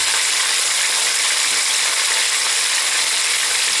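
A pepper mill grinding black pepper over a pan of chicken, producing a continuous gritty, ratcheting crunch that stays loud and steady throughout with no talk.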